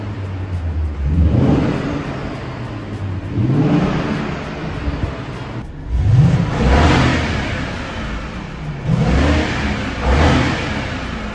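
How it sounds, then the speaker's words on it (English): Two cars revving in turn, a five-cylinder turbo and a big naturally aspirated V8, each giving loud rising engine blips repeated about four times in a steady rhythm, with no voices over them. "Five-cylinder turbo versus a nice big naturally aspirated V8."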